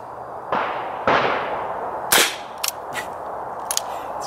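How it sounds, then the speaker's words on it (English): Suppressed Nagant M1895 revolver firing subsonic rounds into dirt outdoors, giving several muted, sharp pops in quick succession followed by fainter metallic clicks and clanks, moderately loud with no talking. "let's just shoot off into the dirt again"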